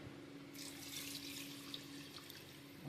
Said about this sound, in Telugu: వాటర్ పోసాను.